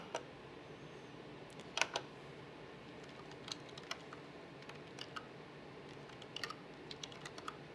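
Soft, scattered clicks of keys on a computer keyboard as a name is typed, faint and close in a quiet room, with no talking.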